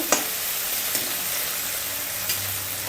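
Chopped cabbage frying for veg chowmein, a dense, loud, continuous hiss from the hot pan with a few sharp stirring clicks scattered through it.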